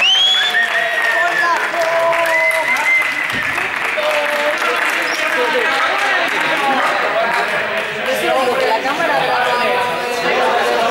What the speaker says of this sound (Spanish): Un aplauso para el primer clasificado.